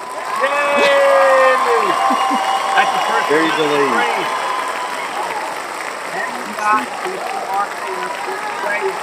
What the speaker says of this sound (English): And can we get a round of applause?